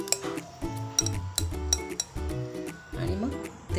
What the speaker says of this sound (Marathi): हा पण साचा असा झटकून घ्यायचा